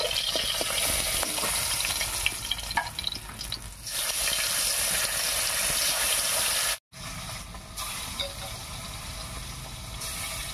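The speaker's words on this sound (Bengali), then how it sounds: "এই মাছ কটা ভাজা হয়ে গেছে, এবার নামিয়ে নিচ্ছি।" Bata fish fry in a pan with a dense, steady sizzle and occasional stirring scrapes, interrupted once by a brief gap near the end.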